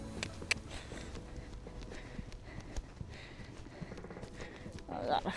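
A horse works on a snow-covered arena with a soft, irregular patter of hoofbeats and a few louder thumps. It stays faint to moderate, and a brief louder rustle comes near the end.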